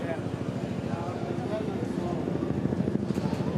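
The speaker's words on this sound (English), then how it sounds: "You can hear the helicopter coming overhead as well." A helicopter passes overhead during a Formula E qualifying session at the Long Beach street circuit, a steady throbbing rotor drone with broad noise that stays loud and continuous throughout, mixed with general track ambience.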